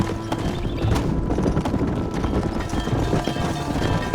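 Horse hooves clip-clopping in the video game Red Dead Redemption, a steady rhythmic trot close by over game ambience, with no talk.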